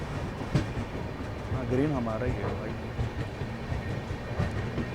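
The Kaifiyat Express pulls out of Aligarh on a parallel track. Its steady rolling rumble and wheel clatter fill the scene continuously, heard from inside a neighbouring moving train while men chat over the noise.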